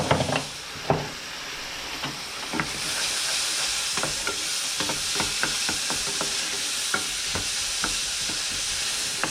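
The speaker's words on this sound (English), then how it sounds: "we're just going to saute these a little bit, get them translucent, keep them moving" Ingredients for chicken parmesan sauté in a pan with a steady, loud sizzle, punctuated by sharp clicks and scrapes as they are kept moving.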